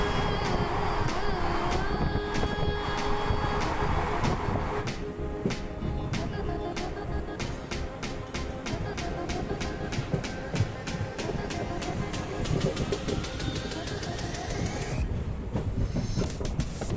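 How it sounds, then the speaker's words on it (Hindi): Sabarmati Express train pulling into Kishangarh railway station, with steady rhythmic clickety-clack of wheels over rail joints, heavy rumbling and a rising squeal of wheels near the end as it slows. "दोस्तों हमारी ट्रेन पहुंच चुकी है किशनगढ़ रेलवे स्टेशन।"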